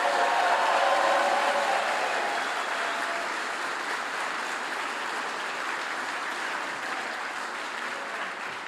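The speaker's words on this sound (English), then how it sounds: "Let's give him a thunderous round of applause." A large audience at Hamilton's State of the City address gives the mayor a thunderous ovation, a loud wall of continuous clapping that holds strong for the whole stretch and eases only slightly toward the end.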